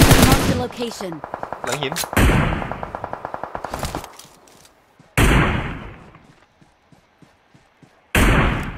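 Enemy gunfire in PUBG Mobile: several loud bursts of rapid automatic fire, each trailing off in an echoing tail, with short pauses between them and a voice speaking briefly among the shots.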